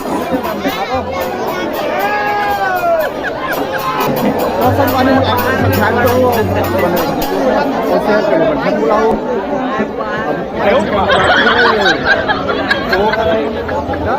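A large crowd at a Dussehra festival gathering chatters in a dense, continuous babble of many voices, with children's shouts rising above the steady hubbub throughout.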